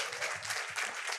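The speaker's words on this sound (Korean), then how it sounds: "박수 좀 부탁드리겠습니다" Applause from a lecture audience, a steady broadband patter of many hands clapping together at moderate distance, sustained throughout without a break.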